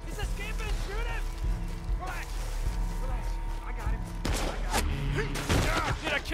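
Gunfire in Red Dead Redemption 2 during a chase after an escaping man: sharp repeated shots and mechanical clicks ring out amid shouted voices and a dense layer of game music and effects.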